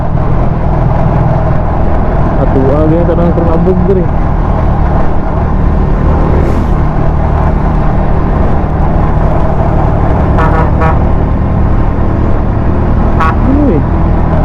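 Trucks rumbling along a dusty diversion road between San Jose and Dalwangan in Malaybalay, with a constant loud engine drone and road noise, brief horn-like tones rising over it and someone talking.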